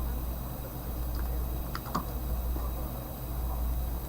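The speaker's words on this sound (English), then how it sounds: "Let me put hello, if the keyboard will allow me." Fast, light typing on a computer keyboard, a brief cluster of close clicks over a steady background hum with no other sound.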